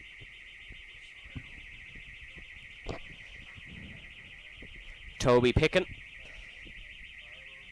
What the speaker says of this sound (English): Apologies if you can hear some sort of beeping. There's a fire alarm going off here at the tower.